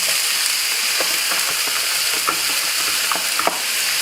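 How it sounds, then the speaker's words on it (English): Onion, yellow peppers and garlic sauté in a hot pan with a steady, close sizzle, a few faint clicks and stirring scrapes scattered through it. "now we're going to saute off our onion, peppers and garlic till it's soft"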